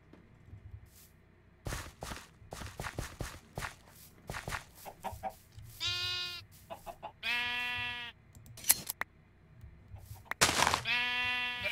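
Blocky Minecraft sheep bleat several times in the game, wavering calls spaced out between soft clicks and footsteps, fairly close and clear, with no talking.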